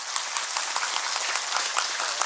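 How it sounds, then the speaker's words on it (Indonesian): Steady applause from an audience at a Balinese Hindu Dewa Yadnya ceremony and dharma talk in Desa Adat Bebayu, a dense even wash of many hands clapping alone, without voices. "Tepuk tangan lu nih."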